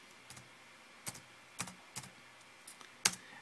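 Typing on a computer keyboard during a Norton Ghost 2003 backup setup on Windows XP: a handful of separate, fairly crisp key clicks spaced irregularly over a few seconds against a quiet background.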